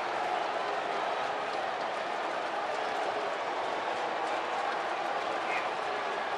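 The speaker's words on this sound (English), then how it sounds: "gives that Met cheering section something to cheer about today" A stadium crowd of Mets fans roars steadily at a Mets–Cubs baseball game after a two-run home run, a broad, continuous wash of cheering that holds from start to finish with a voice mixed in.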